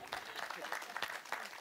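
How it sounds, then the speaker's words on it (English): Slow, light golf-clap applause from a small audience at an esports panel in Katowice, a few scattered claps under and around talk. "A nice slow golf clap to begin with."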